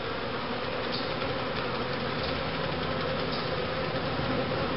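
Honey bees buzz in a dense, steady drone during a hive inspection, close and continuous throughout, with no talking.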